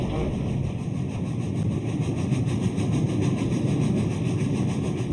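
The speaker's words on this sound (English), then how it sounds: "Tornado's staccato exhaust beats reverberate across the city." Staccato exhaust beats of the steam locomotive Tornado echo across a city, a steady mechanical chuffing and rumbling that continues without pause at a constant loudness, with faint rhythmic pulses running through it.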